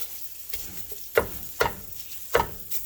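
Sausage browning in bacon grease in a pan, heard as a low steady frying crackle with a few sharp clanks of a spoon or spatula stirring through it, close and fairly quiet.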